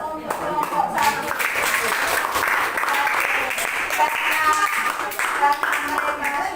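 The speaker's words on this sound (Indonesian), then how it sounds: "kita berikan aplaus untuk kelompok 1" A classroom group is applauded, with sustained clapping from many hands filling the room steadily for several seconds, with a little talk mixed in.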